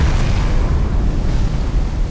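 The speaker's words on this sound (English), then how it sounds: "That's a lot of explosions. Yeah, that's a big hit." Torpedo hits in the submarine game Silent Hunter 4 produce a continuous, loud, low rumbling roar of explosions with no clear breaks.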